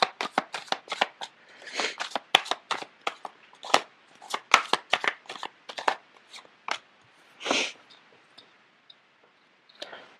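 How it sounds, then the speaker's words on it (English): Tarot cards shuffled in a quick run of sharp riffling bursts and soft slaps, close and fairly loud, with short pauses between shuffles and no talking. "The cards are not shuffling too well."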